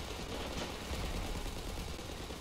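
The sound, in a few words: gunfire in Ravenfield video game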